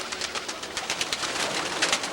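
A pigeon or dove coos in short, repeated calls close by, steady over a faint hum of background noise, with no voices.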